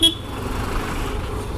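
A car horn gives one short toot at the start amid busy city traffic with buses, followed by a steady low rumble of road noise.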